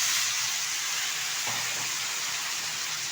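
Cut cauliflower pieces fry in hot oil, giving a steady, even sizzle and hiss throughout, with a brief soft clunk partway through.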